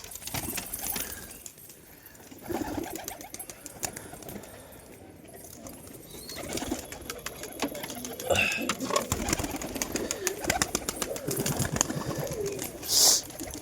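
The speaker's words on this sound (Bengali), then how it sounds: "তো সব কবুতর ছেড়ে দিচ্ছি, যখন নামবে তখন তোমাদের দেখাবো।" Pigeons are let loose to fly, with soft cooing and wing flutter mixed into background noise while someone talks.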